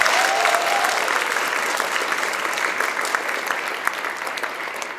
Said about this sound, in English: huge applause for them